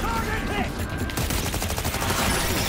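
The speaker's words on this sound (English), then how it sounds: "I guess we gotta shoot our way through" Loud, rapid bursts of gunfire in the Cyberpunk 2077 video game crackle continuously in a dense firefight, with no speech over them.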